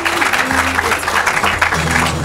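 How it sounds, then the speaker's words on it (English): A school quiz audience claps for St. Augustine's College, a loud, continuous round of applause with a low hum underneath. "75, please, a round of applause for them"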